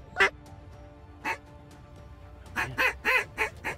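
Ducks quack and honk during a late-season waterfowl hunt in Wyoming, several loud nearby calls in bursts: one early, one in the middle, then a rapid run of four or five calls at the end over quiet marsh ambience.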